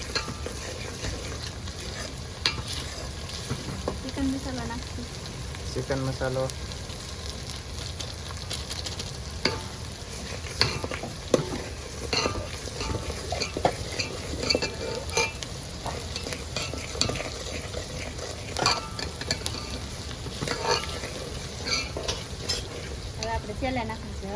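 Turmeric sautéing in a pan in a home kitchen, a continuous sizzle of frying with intermittent stirring scrapes and clinks, moderately loud throughout.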